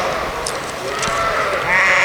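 Horned Dorset sheep bleat at a sheep show, with several close, loud, wavering bleats overlapping against the murmur of the show barn.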